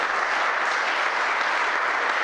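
Steady, dense applause from an audience at an addiction recovery coaching talk, loud and even throughout with no voices over it.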